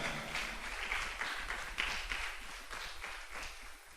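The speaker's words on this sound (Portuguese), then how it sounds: "Você pode aplaudir a Jesus por isso?" A church congregation applauds together, a dense, steady wash of many hands clapping for the whole stretch at moderate volume with no voice rising above it.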